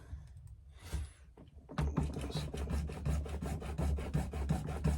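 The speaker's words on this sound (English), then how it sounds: "I have got a junior hacksaw here actually" A junior hacksaw cuts through flexible koi pond hose, giving quick, rapid back-and-forth rasping strokes in a steady rhythm, close and fairly loud, after a brief faint scrape at the start.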